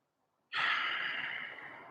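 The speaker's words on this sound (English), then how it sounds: "So you breathe in" A sudden deep inhale during a karate stretching session, a breathy rush of air that starts abruptly and tapers slowly, close to the microphone with no talking.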